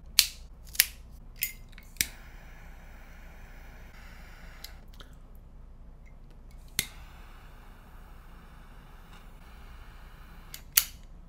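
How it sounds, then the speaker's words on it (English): Premium cigar being clipped with a cutter: a few sharp snips and clicks near the start, then sparse clicks over quiet background. "the only way to find out is with a cut and a light"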